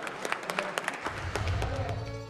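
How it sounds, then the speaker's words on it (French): Scattered applause from a small group follows the end of a French snacking-themed cooking segment, a handful of distinct claps early on, then fading under a low background hum. "vous pouvez les applaudir"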